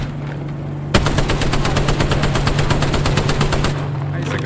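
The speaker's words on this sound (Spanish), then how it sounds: "Atención, me están disparando." Rapid automatic gunfire from the Apex Legends video game, a loud sustained burst of evenly spaced shots that starts abruptly and runs for about three seconds before cutting off, with no talk over it.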